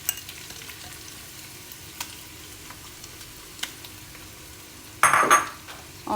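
Shredded chicken sautés gently in olive oil, giving a soft, low sizzle with scattered ticks and light stirring clicks, then a louder burst of spatter near the end; no talk.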